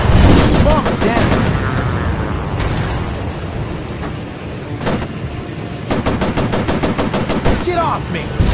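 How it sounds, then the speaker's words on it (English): Warplanes over the Pacific in a VR combat game, with dense rapid bursts of aircraft machine-gun fire and rocket launches. The rattling volleys are loud and close and come in clustered runs with short gaps between them. "Machine guns overheated. Firing rockets."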